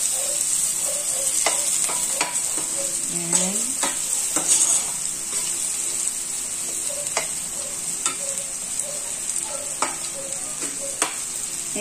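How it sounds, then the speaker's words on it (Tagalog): Garlic and onion frying together in a pan, a steady close sizzle that runs throughout, broken by frequent sharp clinks and scrapes of a utensil stirring and knocking against the pan. "Pagsasabay na natin to para hindi masunog yung bawang. Garlic and onion."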